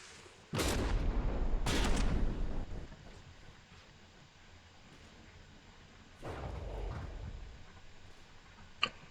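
Heavy booming naval cannon blasts in a video game, two close together near the start and another later, each followed by a rumbling decay over low wind-like background noise.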